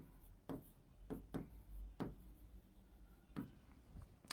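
Pen scratching on paper while words are written by hand, a series of short separate strokes in an uneven rhythm, quiet and close.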